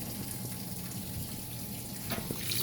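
Water pouring steadily into a washing machine drum on its fill cycle, a continuous close rushing hiss with no talking.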